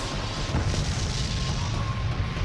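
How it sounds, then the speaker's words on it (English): A big explosion in an animated Naruto versus Ichigo battle, a sustained low rumbling blast with crackling debris that stays loud and dense throughout, with no talk over it. "Was that explosion enough?"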